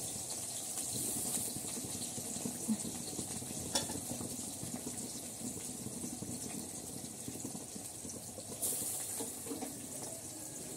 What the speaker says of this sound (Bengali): এখন আমি পেঁয়াজ দিয়ে দিচ্ছি তেলের মধ্যে।